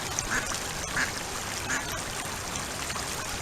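Ducks quack a few times at moderate distance over a steady outdoor wash that resembles running water.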